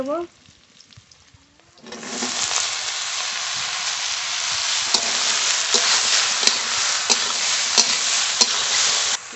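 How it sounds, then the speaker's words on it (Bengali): Chopped onion frying with a cumin tempering before sponge gourd is added, village-style Bengali cooking. After a short quiet start, a loud, steady sizzle bursts in and holds, with occasional clicks of stirring. "পেঁয়াজ কুচি বেশি ভাজবো না কেটে ধুয়ে রাখা ধুন্দুল দিয়ে"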